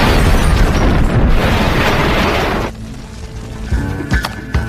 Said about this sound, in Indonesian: Setelah sampai ke tepian, Jimmy lantas meledakkan sebuah bom yang sudah terpasang rapi di dalam rumah tersebut.